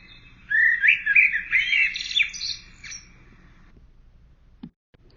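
A blackbird sings a clear, fluting phrase of warbling notes lasting a few seconds, loud and close, before falling silent, with a faint low rumble underneath and no voices.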